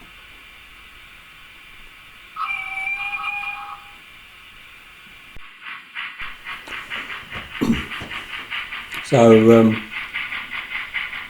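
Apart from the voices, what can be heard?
train hissing near the coal unloading siding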